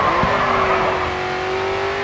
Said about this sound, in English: Full throttle now, coming onto the final straight.